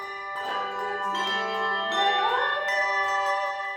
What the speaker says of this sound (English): These handbells first started creating tunes in churches